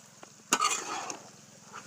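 Spicy dish being stirred and mixed in a pan, with one sharp clank of the utensil followed by a brief stretch of soft scraping and sizzling over a low steady hum.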